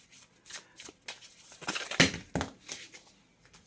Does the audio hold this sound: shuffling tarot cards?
yes